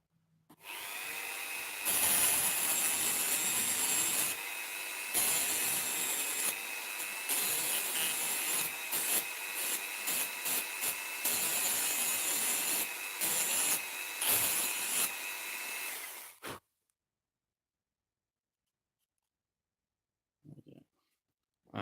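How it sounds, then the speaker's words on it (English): A handheld rotary tool such as a Dremel grinds and smooths ridges on a resin 3D print, sounding as a loud, steady high-pitched whine with short pauses and bursts for about sixteen seconds before cutting off, then a few faint clicks. "So a couple of minutes with a file or Dremel, we should get rid of that fairly easily."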